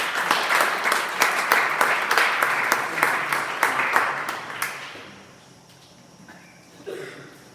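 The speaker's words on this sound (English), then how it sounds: "Let's give Wes a round of applause" An audience at an NCHS college and FAFSA night claps for Wes Magnan, a long-serving NNU figure, in a dense, steady round of applause lasting about five seconds before fading to near quiet.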